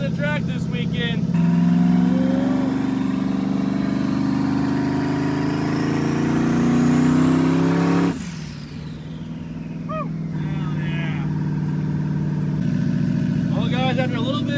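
A twin-turbo Camaro fitted with 2000cc injectors drives with a loud engine whose pitch climbs steadily, then drops sharply as the car settles to a lower drone. Someone talks over parts of it.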